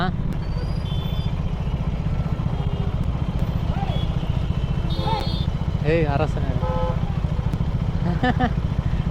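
Royal Enfield Interceptor 650 with stock exhaust riding through city traffic, a low, even, mellow engine thrum under steady wind noise, with someone talking over it and scattered horn beeps around.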